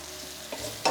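Sliced aubergines hit a hot pan of browned onion and garlic, a close, soft sizzle with a brief scrape of stirring and a louder crackle near the end.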